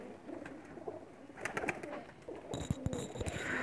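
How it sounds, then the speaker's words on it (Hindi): Lakha pigeons, Pakistani flying breed females, cooing close by in soft repeated low calls, with a few brief rustles and sharper bird sounds toward the end and no talk. "ये लाखे कबूतरों में से है"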